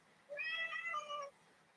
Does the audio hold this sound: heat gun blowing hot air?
no